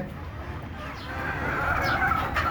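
Desi chickens cluck softly in a small group, brief scattered calls over low background noise.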